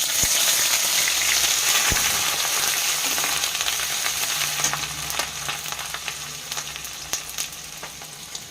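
Cumin, garam masala, bay leaves and ginger paste hit hot oil in a kadai, a loud dense sizzle that slowly eases, with a few sharp spatula taps and scrapes.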